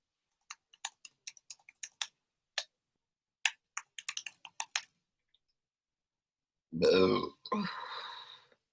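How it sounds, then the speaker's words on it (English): A single low, throaty burp bursts out after a run of faint, sparse keyboard typing clicks, followed by a person speaking softly and close to the mic in a quiet room. "that's where there's the burp I was concerned about"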